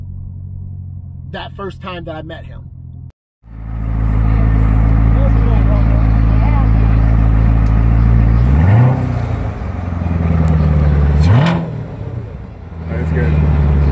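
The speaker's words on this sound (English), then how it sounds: "And so he revved the car for me" A Corvette C7 Z06 engine revs loud and close after a short spoken line, a steady heavy idle rumble broken by two sharp throttle blips that climb and drop back.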